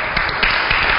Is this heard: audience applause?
yes